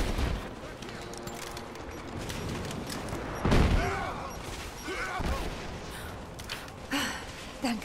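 Gunfire in the video game Rise of the Tomb Raider, a few separate loud shots with sharp booming bursts amid quieter game ambience and occasional voice.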